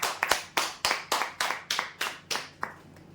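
Rhythmic hand clapping for a winner at a customer prize draw, eight or nine crisp, evenly spaced claps close by, then quiet.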